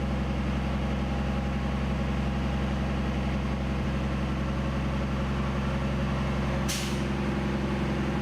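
Locomotive air brake system pumping down and building air pressure during an engineer's pre-trip inspection: a steady, continuous low rumble and hiss of compressor and idling engine, with one brief sharp burst of released air near the end.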